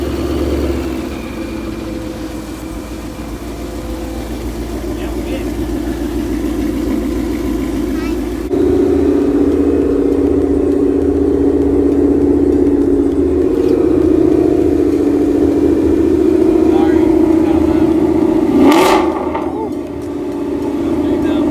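A Honda Integra engine runs loud and close, with a steady droning idle that steps up slightly in pitch and intensity partway through and holds there, then dips briefly near the end.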